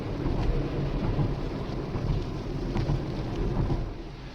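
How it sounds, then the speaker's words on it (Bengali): Heavy rain drums on a car during a road trip, a dense close roar with a low rumbling undertone, steady and loud throughout. "এখন বৃষ্টিটা বেড়েছে। কি জোরে জোরে বৃষ্টি পড়ছে।"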